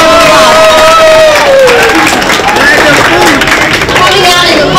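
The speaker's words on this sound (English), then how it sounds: "One more round of applause." A very loud crowd at an MLK Day young scholars event claps and cheers, with shouting voices and babble mixed into the close, continuous noise of hands.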